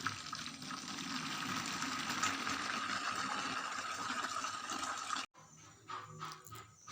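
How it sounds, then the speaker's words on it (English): Hot water is poured into a bucket in a steady, close splashing stream for about five seconds. The pour stops abruptly and is followed by quieter sloshing and trickling. "I have poured the hot water into the bucket"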